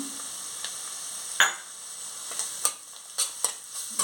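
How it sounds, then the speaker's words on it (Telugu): Tempering spices, chopped onion, green chillies and curry leaves fry in hot oil, a quiet steady sizzle with scattered spatula scrapes and crackles at irregular intervals. "పోపు దినుసులు కూడా వేసుకుంటున్నాను పోపు వేగిపోయింది ఆనియన్స్ చిన్న చిన్న ముక్కలు కట్ చేసుకొని వేసుకుంటున్నాను"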